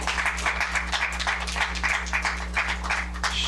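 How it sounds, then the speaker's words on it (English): Audience members applaud to welcome a panelist at a professionals panel discussion, a fairly loud, continuous patter of clapping over a steady low hum in the room. "Round of applause."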